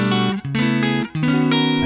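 Clean electric guitar tone played through a Boss GT-8 preamp into a Palmer PDI09 speaker simulator, recorded direct to a computer sound card; a few sustained, ringing notes and chords with short gaps between them, clear and up close.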